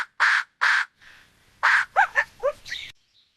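A crow gives three harsh, loud caws, then a quick run of shorter squawking calls follows, close and clear against silence.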